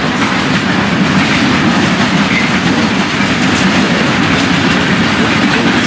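A freight train hauling gondola cars loaded with granite ballast rolls past close by on the Florida East Coast line, its steady loud rumble and rhythmic clickety-clack of wheels on rail joints continuing without a break.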